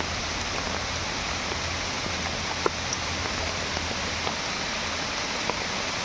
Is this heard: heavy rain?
yes